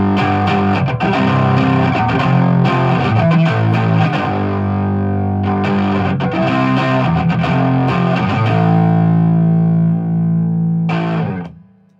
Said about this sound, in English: That was the blues driver right there.